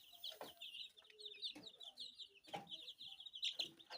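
Tiger Murgi chicks only six days old clucking and peeping, a steady run of high chirps with brief louder calls, close and fairly quiet.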